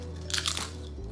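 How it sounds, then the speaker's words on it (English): Crunchy Forager Cheesy Greens vegetable chips being bitten and chewed close up, a couple of loud crisp crunches over a low steady background hum. "I'm eating chips in bed right now"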